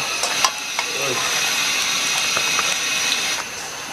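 Cooking oil goes into a hot wok while making spicy red-spiced chicken feet, a bright steady sizzling hiss that holds throughout with a few light clinks.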